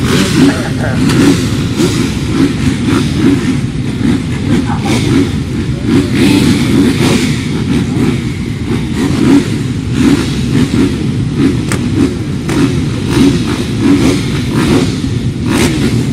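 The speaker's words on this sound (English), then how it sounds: "So the bikes have started." 450 speedway motorcycles revving together at the start of a race at Murray Bridge Australian nationals, a loud, dense, continuous engine roar with crowd and voices mixed in.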